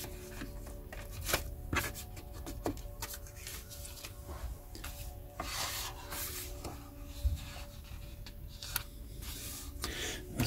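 Trading cards being handled in an Avatar collector's book from 2010: continuous close papery rubbing, sliding and shuffling with occasional sharper flicks of card stock, no voices.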